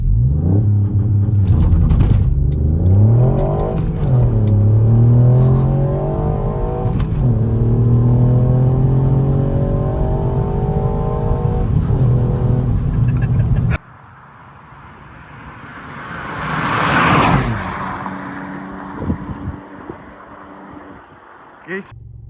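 A car's engine revs loudly, rising and falling through gear changes with a spirited downshift setting, then cuts off into a quieter engine whir with a brief swell; exhaust pops are not clearly distinct, and a voice may be faintly present.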